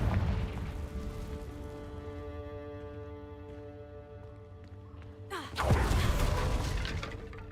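A Confringo blast spell in the Hogwarts Legacy video game goes off as a sudden loud burst near the end, sharp and broad, after a long stretch of sustained tonal game music and ambience.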